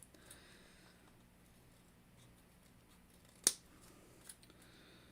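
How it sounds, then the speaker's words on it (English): Scissors snip stray threads on a handmade tassel angel: one crisp, close cut stands out in near silence, followed by a softer second snip. "We're gonna give it a snip in some spots that are coming out."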